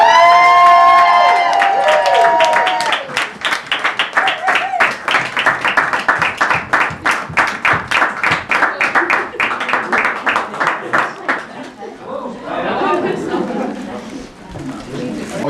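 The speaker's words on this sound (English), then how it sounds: "can we have a massive round of applause for" Loud, sustained round of applause from a wedding crowd, dense rhythmic clapping running several seconds after a brief burst of cheering and whoops at the start, tapering near the end.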